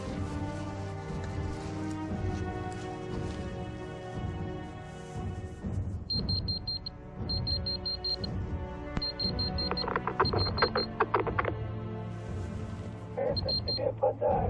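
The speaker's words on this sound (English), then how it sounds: "the magnetic detector emits sounds rapidly from the adjacent room" A magnetic detector in an adjacent room gives off rapid, repeated high electronic beeps in short bursts over a dense, continuous musical bed, the beeps recurring through the middle and end.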